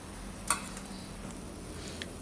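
Mango pachadi stirred in a pan after cumin powder, asafoetida and salt go in: a faint, soft scraping hush with a couple of small clinks, one early and a few near the end.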